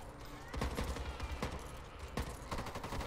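Rapid gunfire in the zombie shooter Back 4 Blood, a quiet run of sharp shots in quick bursts, fairly distant and continuous with background game noise.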